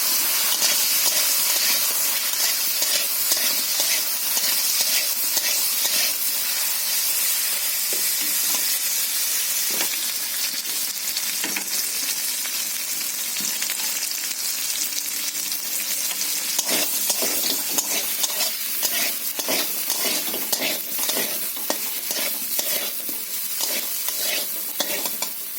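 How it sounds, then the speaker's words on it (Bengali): Boiled potatoes fry in a pan for a soybean curry, giving a steady, close hiss and sizzle that runs unbroken throughout, with occasional stirring scrapes and clicks and no talking. "আলুটা ভাজা হয়ে গেছে, তুলে নিচ্ছি।"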